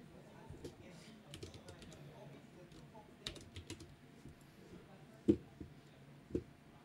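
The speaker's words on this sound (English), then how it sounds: "You type it." Someone types on a computer keyboard in quick, uneven bursts of light key clicks, up close beneath quiet conversation during a Magic: The Gathering match.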